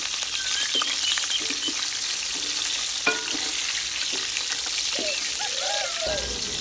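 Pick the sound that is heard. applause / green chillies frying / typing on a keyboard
green chillies frying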